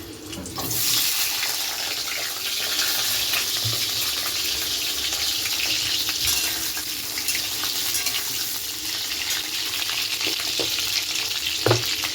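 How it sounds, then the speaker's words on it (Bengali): Potatoes go into hot oil and fry with a loud, continuous hiss and crackle, close by and steady throughout, with a few small knocks and clatters. "তেলটা গরম হয়ে গেছে এবার আলুটা দিয়ে দেবো"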